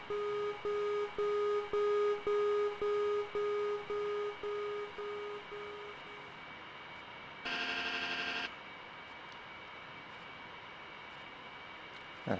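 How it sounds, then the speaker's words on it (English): MD-80 trim wheel in a flight simulator game clacks in a fast, even series of clicks for several seconds under cockpit hum, then a brief louder buzzing tone sounds before the steady drone continues alone. "That's just a trim moving."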